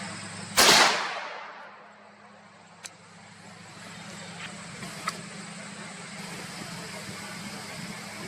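A Franchi Affinity Elite shotgun fires a single number 4 shot shell at a pattern target outdoors, a loud sharp blast early on that rings out and decays, followed by quiet ambient hum and a couple of faint distant clicks.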